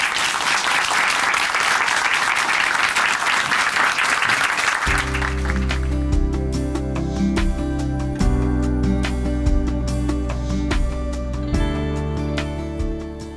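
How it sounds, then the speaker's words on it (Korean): A church audience claps loudly and continuously for several seconds, then the applause fades as instrumental music with sustained tones comes in. "박수로 모실게요."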